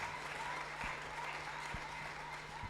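Steady applause from a church congregation cheering the King of Kings, a dense, sustained clapping wash filling the room without pause for its full length.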